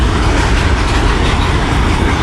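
A fast train crosses a railway bridge, a loud, dense, continuous rumble of wheels and carriages close by with no voices.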